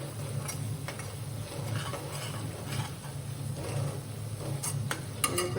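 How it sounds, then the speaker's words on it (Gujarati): A spoon stirs asafoetida and turmeric through a pan of cooking green pigeon peas: soft scraping and light taps over a steady low sizzle and hum, with a few sharper clinks toward the end and no talking. "હવે છે ને આપણે આમાં થોડીક નાખી દઈશું હિંગ ને હળદર, મિક્સ કરી નાખીશું."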